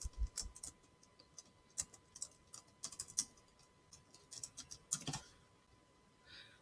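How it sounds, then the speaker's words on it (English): Keystrokes on a computer keyboard as a Gmail username is typed: quiet, irregular clicks in short runs with a few sharper, louder taps and pauses between them. "So I'm going to go ahead and type that in."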